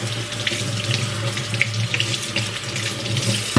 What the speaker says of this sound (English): Rinse off all the things, including the shark.